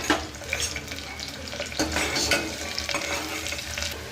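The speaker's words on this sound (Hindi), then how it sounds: "तेल गर्म में प्याज कच्ची मिर्ची डाल लेके हिला लेना।" Onion and green chillies sizzle steadily in hot oil in a pressure cooker while being stirred, with scraping spoon strokes over a dense, close crackle.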